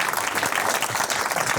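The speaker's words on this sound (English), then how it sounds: "let's give a round of applause here for Paul Schrader." Theater audience applauding a guest film director, dense continuous clapping from a large crowd, loud and even from start to finish.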